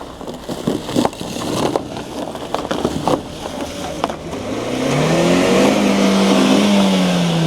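Mahindra Thar Roxx 4x4 on snow in winter Spiti, Pin Valley, its engine rising into a steady rev after scattered clunks and knocks, close and fairly loud with no talk.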